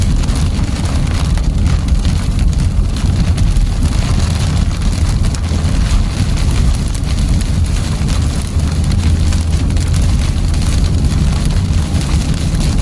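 Heavy rain and hail batter a car during a Wisconsin severe storm, a loud dense rushing patter with wind noise that holds steady throughout, heard from inside the vehicle with no talking.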